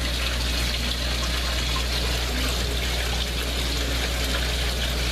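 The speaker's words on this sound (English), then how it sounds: "the excess is draining through the bottom of the barrel into the sump tank." Excess water drains from the bottom of an aquaponics grow-tower barrel into a sump tank, a steady, close trickling and splashing flow with a constant low hum beneath it.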